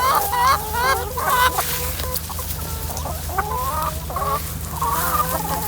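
Free-range hens cluck and chatter inside a simple backyard chicken pen, several birds calling near and loud in overlapping bursts over a steady low background hum.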